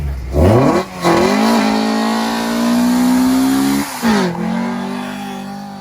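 A Toyota Supra A90 engine revs hard and loud up toward redline, climbing in pitch, dropping off briefly, then rising again into a sustained high rev before a second quick drop and recovery, close-up at a street car meet.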